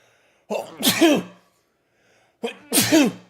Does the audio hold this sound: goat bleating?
no